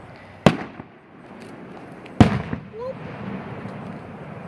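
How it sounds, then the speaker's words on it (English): Two distant firework bursts pop at a summer fair, each a sharp crack with a brief rumbling tail over steady outdoor crowd ambience. "I gotta move a little bit over to this way so I can see the fireworks better."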